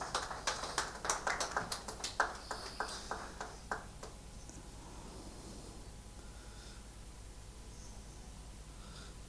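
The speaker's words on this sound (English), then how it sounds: "Please give him a big round of applause" An audience at a Rotary Club installation ceremony claps in a scattered burst of distinct hand claps that thins out after about four seconds, leaving a quiet hall murmur.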